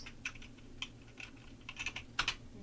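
Computer keyboard keys tapped while code is typed for a Piggy-style game: sporadic, light keystrokes in small clusters, fairly faint, over a low steady hum.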